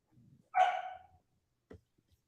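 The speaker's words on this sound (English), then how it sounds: "Disregard that dog." A dog at a live-streaming host's home gives one short bark at a distance, followed by faint thumps and small noises in an otherwise quiet room.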